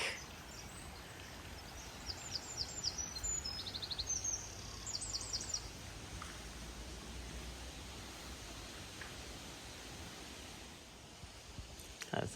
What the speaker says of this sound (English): And birdsong.